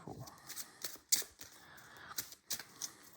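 Playing cards shuffled by hand for a tabletop card game, giving a few short crisp riffling bursts spaced across a quiet room.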